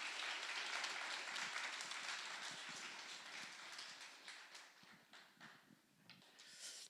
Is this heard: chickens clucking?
no